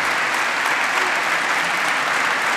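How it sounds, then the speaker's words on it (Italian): A congregation in a church gives a dense, sustained round of applause for four choirs and their conductors, steady and fairly loud throughout with no pauses. "Consentitemi un applauso a tutti e quattro i cori e ai maestri."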